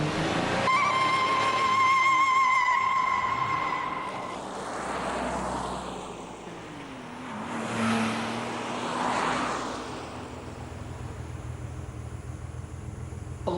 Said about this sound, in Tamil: டிரைவர் சார், வண்டியை நிறுத்துப்பா.